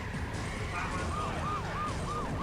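A police car siren wails in the London Racer II driving game, a rising and falling tone repeating several times over a steady engine and game noise, moderately loud.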